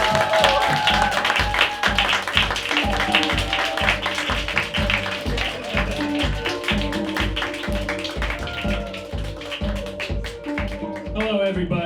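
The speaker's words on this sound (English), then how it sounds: "give a loud, welcoming applause for Steve Gallo" Loud, dense applause from a comedy club audience welcoming a comedian on stage in Seoul, steady clapping with cheering throughout, close and continuous, with voices mixed in under it.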